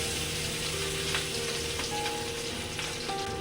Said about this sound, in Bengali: এদিকে মাছ ভাজাটা বসিয়ে দিয়েছি